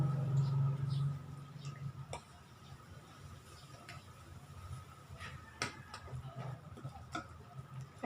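Hotcake batter of flour and water is stirred in a bowl, giving sparse, irregular clinks and taps close by, with a low hum at the start.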